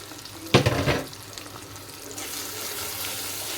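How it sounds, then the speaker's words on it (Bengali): Beef brain dropped into a pan of cooked-down spice masala: a brief burst of splashing sizzle and clatter, then a soft steady frying hiss continuing close by, with no voices. "মশলাটার ভিতরে এখন এই মজকটা দিয়ে দিলাম"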